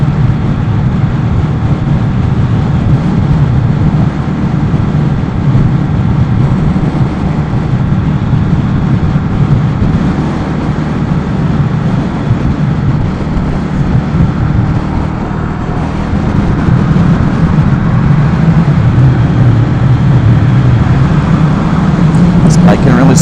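A 2015 Indian Scout motorcycle engine while riding on the road, a loud, constant low rumble mixed with heavy wind roar that holds steady throughout.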